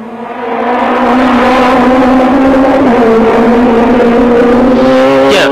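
Team Diac Renault Clio 2-litre rally cars at the 1994 Rallye Grasse Alpin, a loud, close, steady engine drone held at high revs for several seconds.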